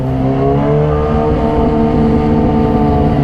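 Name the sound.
Kawasaki ZX-636 motorcycle engine with full-system exhaust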